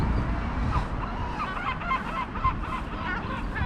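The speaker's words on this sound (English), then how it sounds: "That's the giant gull." Seagulls, including a large gull, call repeatedly in overlapping squawks and honks against steady outdoor background noise, moderately loud and somewhat distant.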